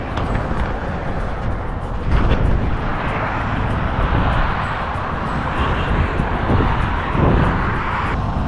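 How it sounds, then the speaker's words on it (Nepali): Strong cold wind buffeting a microphone outdoors, a loud continuous roar with gusty swells throughout and no talking. "एकदम धेरै हावा चिसो भन्दा चिसो चलिरहेको छ हावा चाहिँ"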